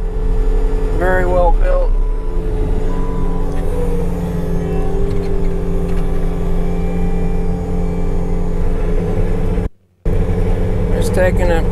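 A Baumalight S18 stump grinder mounted on a skid steer runs loud and steady, its engine droning with a constant grinding roar as it cuts a stump, while someone talks over it briefly.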